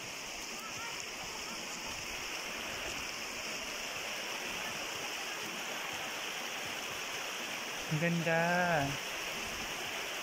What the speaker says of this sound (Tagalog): kung mapapakinggan niyo yung agos ng ilog